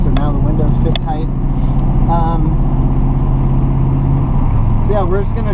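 A 1981 Chevrolet Camaro Z28 drives along with a steady low engine drone and road rumble throughout, with someone talking intermittently over it.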